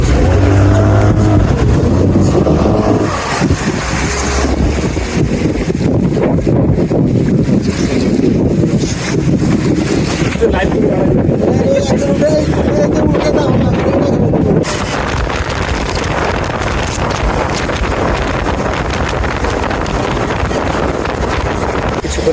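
A speed boat pulls away from the Maheshkhali ghat toward Sonadia island near Cox's Bazar, its engine a loud continuous roar mixed with heavy wind buffeting the microphone throughout.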